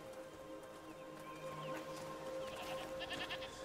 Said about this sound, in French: Des chèvres!